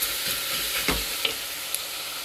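Onion sizzling gently in a pan, frying with a steady soft hiss while a utensil stirs it, giving a few light scrapes and clicks; close and quiet, with no talking.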